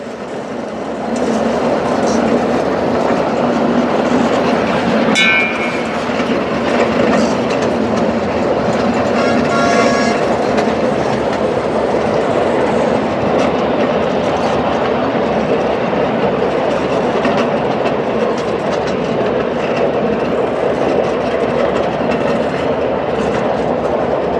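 A miniature electric train carrying passengers runs through a rice field, its wheels clicking and rumbling steadily at close range throughout, with a brief squeal early on.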